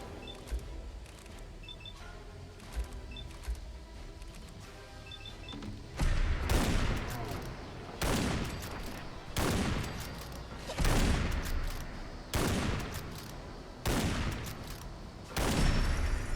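Loud AMR 3000 anti-material rifle shots in Fallout 4, six heavy booms spaced roughly two seconds apart, following a quieter stretch of faint game ambience with small clicks.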